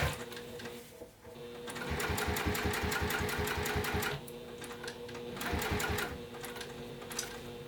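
Sewing machine stitching a quarter-inch seam on a bi-fold wallet with binding, a fast, steady mechanical rattle in two long runs separated by a short pause, close and fairly quiet.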